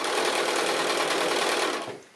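A sewing machine stitches steadily around a small square drawstring bag made from 2 1/2-inch fabric strips, running continuously and close, then slowing to a stop near the end.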